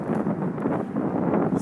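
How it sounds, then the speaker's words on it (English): Wind buffeting a microphone outdoors, a continuous low rumbling roar at fairly loud level with slight gusting surges and no other sounds. "But it is kind of windy through here"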